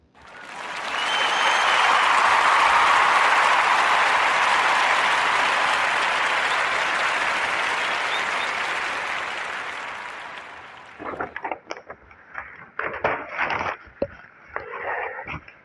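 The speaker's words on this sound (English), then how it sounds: "let's give a warm Narrator podcast round of applause for Chef Lettuce" Podcast audience applause for Chef Lettuce, a broad, loud burst of many hands clapping that swells, holds for about ten seconds, then drops off into scattered sparse sounds.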